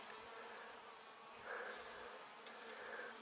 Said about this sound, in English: Busy bees.